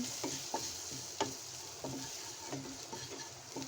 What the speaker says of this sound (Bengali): এবার একটু নাড়াচাড়া করছি